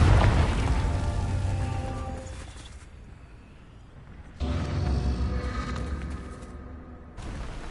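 A Confringo fire spell from Hogwarts Legacy erupts in a loud, broad burst that rumbles and fades over a few seconds, then a second blast hits and rolls on, with a third starting near the end.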